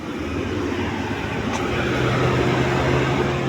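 Cooling fans whir steadily on a Ford F-150 Lightning truck and its charging cabinet during charging, a loud, continuous broadband roar with a low hum running evenly throughout.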